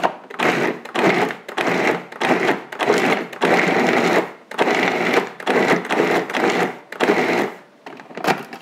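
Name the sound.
food processor pulsing pistachio cookie dough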